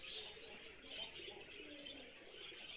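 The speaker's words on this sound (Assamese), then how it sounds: "ইমান ধুনীয়া ফেণ্টেল পাৰ চৰাই হয় এইবিলাক" Fantail pigeons on a farm coo in soft, low repeated calls, mixed with scattered chirps and light wing movement, fairly close and steady throughout with no talking.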